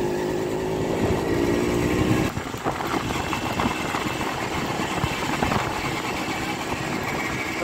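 A favourite motorcycle, usually kept washed and stored, runs with a steady rough engine rumble close by, a brief dip in the sound partway through before the continuous drone carries on.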